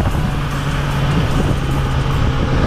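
A 2020 BMW S1000 XR motorcycle with a 165 hp engine gives a steady, dense roar during a test ride, loud and continuous with a low droning hum underneath, no talking.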